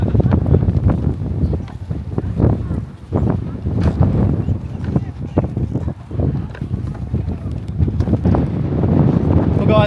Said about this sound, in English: It's quite windy, so hopefully you can hear me okay over the top of that.